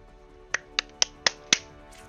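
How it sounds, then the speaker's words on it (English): Five sharp claps sound in an even, quick rhythm, close and crisp, over a quiet hum. "I just had to clap for that"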